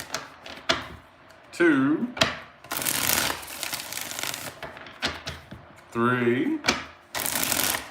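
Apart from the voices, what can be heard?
cards being shuffled for a reading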